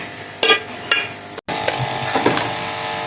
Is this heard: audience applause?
no